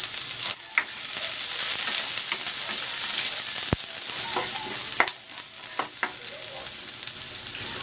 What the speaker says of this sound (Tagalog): Ayan, igigisa ko na rin tong sibuyas.